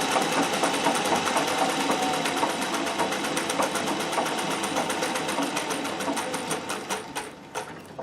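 Treadle-driven Singer 411G sewing machine with a custom balance wheel stitches continuously at an even, rapid clatter, close and loud, slowing slightly with a few separate ticks near the end.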